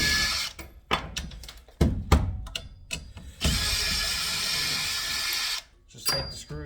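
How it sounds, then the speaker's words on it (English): Drill fitted with a socket removing screws and bolts from scrap metal: short bursts of whirring and ratcheting at first, then a longer steady drilling run and a final brief burst. "Get yourself a drill with a socket end on it"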